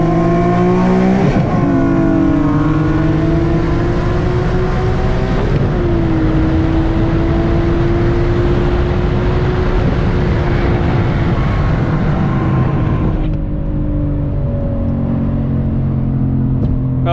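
An Infiniti G37 and a Nissan 350Z race side by side, engines roaring loudly through hard acceleration with audible gear shifts. The pitch climbs, drops and climbs again before easing off near the end.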